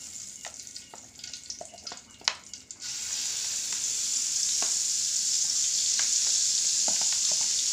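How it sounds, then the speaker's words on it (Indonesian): Ground spice paste for duck rendang sautés in hot oil. Light clinks and scrapes come first, then a sudden loud, steady sizzle that keeps building, close up with no talking. "Saya tumis."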